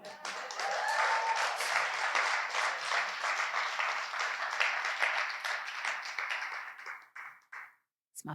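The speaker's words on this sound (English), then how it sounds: "I could tell by the way you was clapping" Poetry-show audience applauding after a poem, a dense, steady wash of many hands clapping close by for about seven seconds before it breaks up into scattered claps and fades out.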